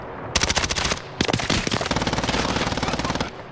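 Rapid automatic gunfire from Call of Duty: Modern Warfare rattles in two loud sustained bursts separated by a brief pause, close and dense.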